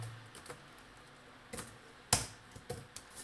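Sparse keystrokes on a computer keyboard while HTML code is written for a Python Django template, a few quiet clicks spaced irregularly, then a sharper cluster of taps near the end, with no talking.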